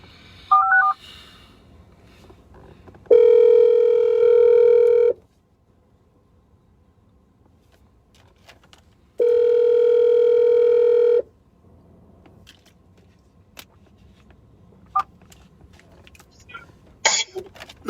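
A telephone call: quick dialing tones at the start, then two long ring-back tones separated by quiet, with a cough and small noises between.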